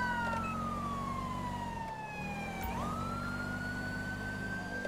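Police car siren in the video game LSPDFR, styled as an Ohio State Highway Patrol unit, wailing loud and close with a steady low engine drone beneath, dipping briefly mid-clip before the rising tone resumes.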